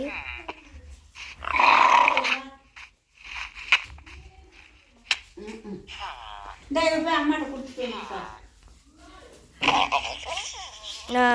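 Growls and snarls from a video-game dog being hit come in bursts, mixed with other game sounds and a person talking over them at close range.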